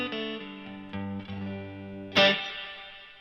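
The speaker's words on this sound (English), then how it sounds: "So let's throw on some spring reverb." Electric guitar played through a spring reverb preset from a Morningstar MC8 controller setup: sustained chords ring with a lingering wash, then a bright strummed hit near the end splashes into a reverberant tail, with no talking.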